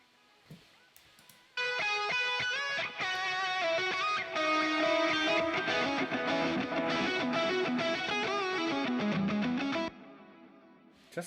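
Music processed through the free Valhalla Supermassive reverb plugin: a loud, dense sustained passage with a long washy tail, running steadily for about eight seconds after a short quiet lead-in, with no talking.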